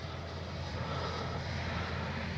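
An FMS Avanti S 70mm electric ducted-fan RC jet flies past with a steady, broad, continuous whoosh of airflow and fan noise that stays fairly even and moderately distant throughout, with no talking.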